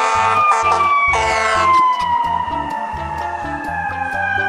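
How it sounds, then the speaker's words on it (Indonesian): Toy fire truck siren, a loud electronic wail with a descending tone over a stepped, blocky melody pattern, played close up with no talk over it. "Wadidaw, ini ada mobil pemadam kebakaran."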